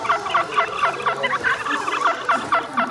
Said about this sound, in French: il y a des gloussements de dinde de partout et ce son est émis dès qu'on appuie sur la gâchette